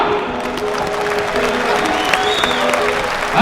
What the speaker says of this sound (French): Applaudissements, mesdames et messieurs, pour Monsieur René Girard